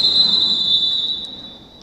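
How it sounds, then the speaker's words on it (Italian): Referee's whistle at a women's Serie A roller hockey match, a single sharp, steady high-pitched blast that holds for under two seconds and fades slightly at the end, heard alone. "fischio dell'arbitro."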